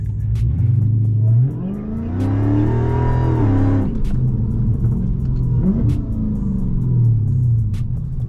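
A Dodge Hellcat Chrysler engine revs loudly nearby, a deep rumbling idle that climbs into a sweeping rev and falls back, followed by a shorter second blip.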